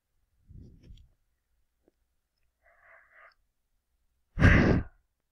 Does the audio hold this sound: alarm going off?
no